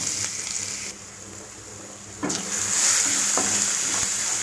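Crushed pepper spice mix dropped into hot oil for pepper chicken curry, a steady sizzle and fry that jumps louder partway through, with faint stirring and no talking.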